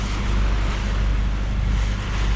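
Steady wind and sea wash roll around a small boat riding roughly 2-foot swells with a cooling, freshening breeze, a constant low rumble of water and air with no voices.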